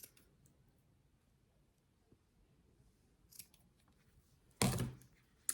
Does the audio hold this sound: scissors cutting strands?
yes